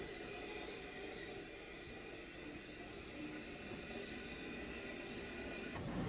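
J26 class 0-6-0 tank locomotive No. 560, built in 1893 for the Midland Great Western Railway, shunting a van at Cork: a steady low rumble of rolling stock, fairly quiet and unbroken, with a sharper clank near the end.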